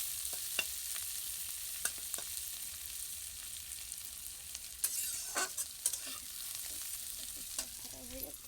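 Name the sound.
onions frying with masala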